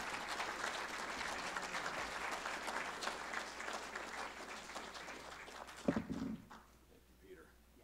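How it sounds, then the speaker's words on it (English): Audience applause after a panel session on art and the Whitney legacy, a fairly quiet, sustained patter of clapping that ends with a thump and gives way to near silence. "how about another round of applause for all of our speakers for this panel?"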